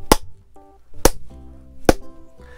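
Three sharp, loud knocks of a hand striking a tabletop, spaced roughly a second apart, with brief tonal electronic chimes from small Mickey-shaped jack-o'-lantern toys sounding between the hits.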